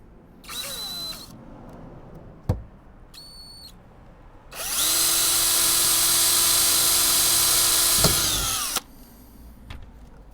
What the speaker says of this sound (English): now I'm going to be using a drill bit with a slightly smaller diameter than the